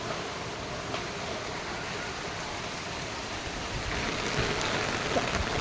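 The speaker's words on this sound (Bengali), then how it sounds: "আজকে সারাদিন হচ্ছে বৃষ্টি প্রচুর পরিমাণে" Heavy rain pours down in a dense, continuous hiss that swells slightly louder toward the end, steady and unbroken with no voices.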